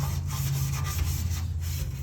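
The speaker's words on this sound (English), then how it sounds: "just hit these spots that don't look dull enough. And then especially just a maroon Scotch-Brite." A maroon Scotch-Brite pad scuffs the paint on a Ford F350 truck, giving a close, steady rubbing rasp for two seconds with no voices.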